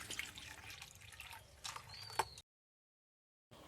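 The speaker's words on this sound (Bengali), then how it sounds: "তো ওই কাপের মাপ করে এখানে আমি 4 কাপ মতো জল দিয়ে দিচ্ছি।" Water, about four cups measured by cup, is poured into a potato batter mixture, making a faint, soft trickle with scattered drips that stops abruptly into silence before a brief return of low noise.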